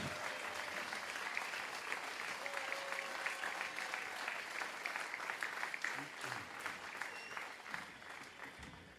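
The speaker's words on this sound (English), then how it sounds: "of applause for the sponsors?" A festival audience gives a round of applause for the event's sponsors at the Zappanale, a steady, fairly distant wash of many hands clapping that lasts the whole stretch, with faint crowd voices mixed in.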